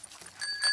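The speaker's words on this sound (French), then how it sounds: "Et ici, la sonnette." A cartoon bicycle bell on Peppa Pig's bike rings in a short bright burst, its clear high tone starting faint and swelling louder toward the end.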